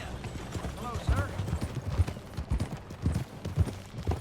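Horse hooves clip-clop in a steady walking rhythm in the Red Dead Redemption 2 video game, close and moderately loud, with a brief whinny-like tone and occasional voices talking over the hoofbeats.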